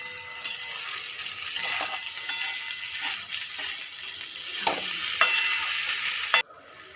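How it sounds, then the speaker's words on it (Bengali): Potatoes, carrots and peas are stirred in hot oil in a pan, with steady scraping strokes over a continuous sizzle that cuts off abruptly near the end. "তেলটা না ছাড়ে, ততক্ষণ পর্যন্ত আমাকে নাড়াচাড়া করতে হবে"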